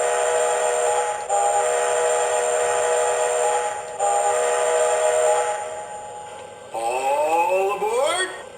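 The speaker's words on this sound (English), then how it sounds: "1 minute warning whistle please" Steam whistle sounds from a Lionel LionChief Strasburg Railroad model train set, engine 90: two long, loud sustained whistle blasts, then a final blast that bends upward in pitch near the end.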